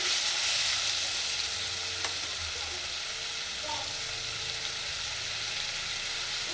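Spices for mutton curry fry in a pan with tomato paste, a loud steady sizzle and hiss close up, with occasional faint stirring scrapes.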